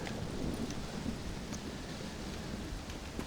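A thunderstorm in the game Red Dead Redemption: Undead Nightmare brings steady rain hissing on surfaces, with low rumbling thunder rolling underneath and a few sharper drop-like ticks, heard alone and fairly faint.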